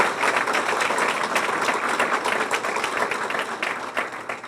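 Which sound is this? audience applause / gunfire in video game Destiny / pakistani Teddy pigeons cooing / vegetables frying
audience applause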